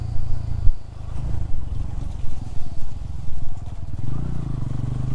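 A new Bajaj Pulsar N160 motorcycle is ridden over a rough, off-road Nepali track, its engine rumbling steadily up close with uneven rises and dips in revs throughout.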